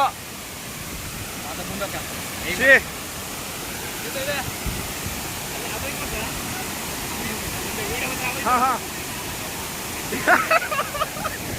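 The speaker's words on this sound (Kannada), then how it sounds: "ಫಾಲ್ಸ್ ಸಖತ್ತಾಗಿದೆ, ಮಸ್ತ್ ಆಗಿದೆ ಫಾಲ್ಸ್." Goyar Falls near Karwar roars as a steady, broad rush of falling water, with voices talking intermittently over it.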